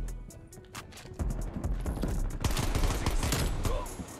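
Dual 1911 pistols firing in a multiplayer shooter video game, rapid bursts of sharp gunshots in quick succession, loud and close, with brief gaps between volleys.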